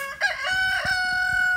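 Chicken calling loudly nearby, a drawn-out crowing cackle with a couple of rising bursts that settle into a sustained tone, heard alone with no talk.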